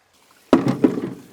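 Potatoes dropped and rinsed in water, a sudden splash followed by a few sloshing, knocking pulses of tubers tumbling in the liquid, close and brief.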